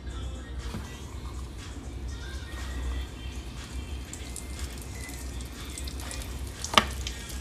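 Haitian ground-beef meatballs fry in hot oil with a steady, quiet sizzle that carries on throughout, broken by a brief sharp clink near the end.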